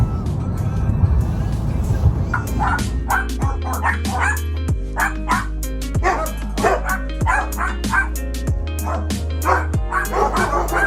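A large young dog in a park barks repeatedly at a steady pace, loud and close, over a low engine-like rumble.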